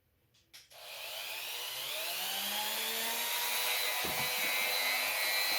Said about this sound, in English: Let's get the Dremel out.